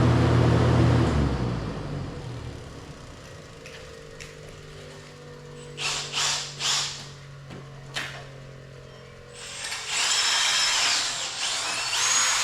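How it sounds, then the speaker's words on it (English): A power drill with a dull bit works into hard material in a workshop while a press is being modified, whining and grinding in uneven bursts with pauses between them, loud and close. "my drill bit is dull as can be."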